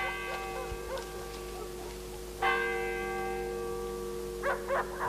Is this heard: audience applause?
no